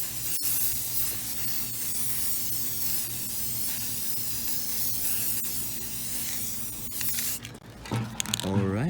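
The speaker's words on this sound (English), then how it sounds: "we'll be putting on metallic finish spray paint." Metallic silver chrome finish spray paint hissing steadily from an aerosol can onto a primed surface, a continuous close spray with brief pauses and a faint rattle near the end.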